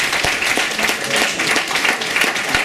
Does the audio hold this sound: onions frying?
no